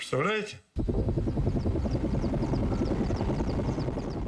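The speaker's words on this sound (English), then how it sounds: "From the sky, helicopters dropped tons of a sticky liquid" A helicopter's steady rotor chop thunders loudly and continuously over Chernobyl after a brief moment of speech at the start.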